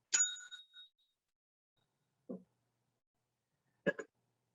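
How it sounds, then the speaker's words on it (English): A small bell rings once with a bright, quick ding that fades away, followed by two short, faint knocks after moments of silence in a quiet room. "when I ring the bell, you're going to hit enter"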